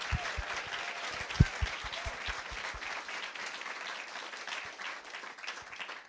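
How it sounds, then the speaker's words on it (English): An audience at a talk on heritage, poetry and activism claps in a moderately loud round of applause. The clapping is dense and steady and tapers slightly over the last seconds. "And maybe one more round of applause for Rachelle."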